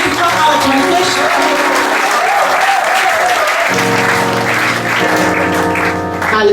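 A church congregation claps steadily throughout a sermon on fornication, the sustained, dense applause mixed with keyboard or organ music and a few voices.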